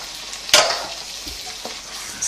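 Diced tomatoes in juice are stirred into chorizo frying in a pan: one loud scraping sweep over a steady sizzle, then a few light utensil knocks.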